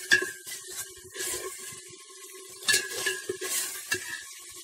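Masala of onion, salt, turmeric and oil stirred and fried in a pan, a steady sizzle broken by repeated scraping and clinking strokes of the spoon, close and moderately loud, no talk.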